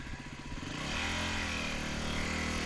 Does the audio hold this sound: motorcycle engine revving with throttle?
yes